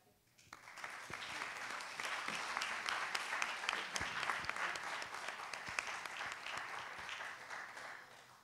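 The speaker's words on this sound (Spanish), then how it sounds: "un fuerte aplauso para ella" Sustained applause from an audience at a presentation of archaeological survey results, rising quickly and holding steady as a dense, continuous clatter of many hands for several seconds.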